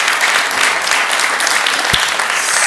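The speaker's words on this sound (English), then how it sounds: "Give a big applause to Ivan." Loud, dense applause from a live crowd at a cryptocurrency event, a steady wash of many clapping hands with one brief low thump midway.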